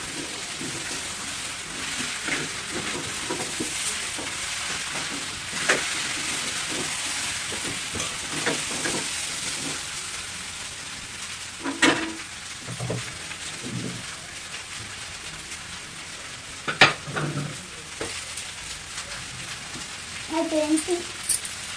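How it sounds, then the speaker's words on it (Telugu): Yam and raw mango curry fries on high flame with a steady, broad sizzling hiss, close and fairly loud, while stirring clatters now and then and a person talks. "హైఫ్లేమ్లో పెట్టుకుని బాగా వేయించుకుందాం."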